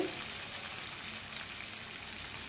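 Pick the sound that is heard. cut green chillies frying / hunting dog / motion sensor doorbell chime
cut green chillies frying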